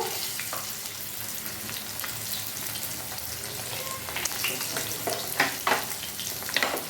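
Spices for a Bengali hilsa fish curry, ground coriander and cumin, frying in a pan with a soft continuous sizzle and occasional stirring scrapes and pops, fairly quiet and close.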